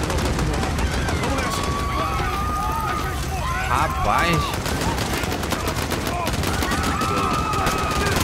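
Rapid gunfire and bursts of shots from Call of Duty: Modern Warfare (2019) crackle throughout, mixed with game sound effects, while someone talks over the action.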